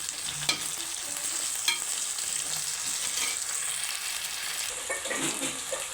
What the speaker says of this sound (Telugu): ఇవి బాగా ఫ్రై అవుతున్నాయి అల్లగల్లి పేస్ట్ వేసుకున్నాం బాగా కలుపుకోవాలి